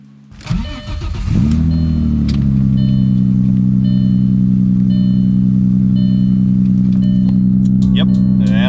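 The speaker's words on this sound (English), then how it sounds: "we're gonna see if the car starts up" An Audi S4 cranks briefly and catches, then settles into a loud, steady idle that holds for several seconds, with a few faint clicks and knocks near the end.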